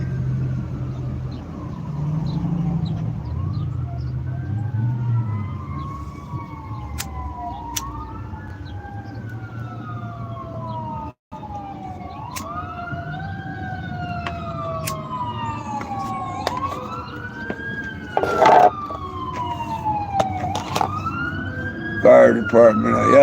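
Several fire truck sirens wail and whoop repeatedly in the distance, rising and falling in overlapping sweeps that grow louder and busier toward the end, with someone talking in the first few seconds.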